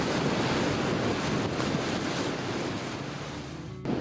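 Strong wind roars across the microphone on a coastal hiking trail in Newfoundland, a loud, unbroken blustery rush with surf-like noise that holds for the whole stretch, with no voices.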